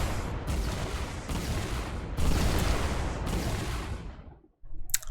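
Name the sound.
explosions in a video game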